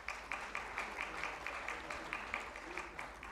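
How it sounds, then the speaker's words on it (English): Audience applause for panel speakers at a climate-finance leadership session, a steady, fairly faint wash of clapping with regular louder accents throughout. "I want all of you to keep clapping for them."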